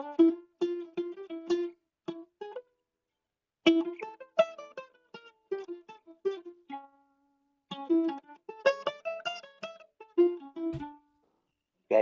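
A jazz guitar plays short, clean phrases of plucked single notes in separated bursts with brief pauses between them, close and moderately quiet, with no talking.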